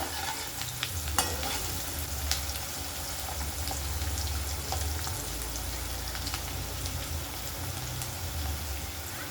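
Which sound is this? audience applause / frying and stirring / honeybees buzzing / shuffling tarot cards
frying and stirring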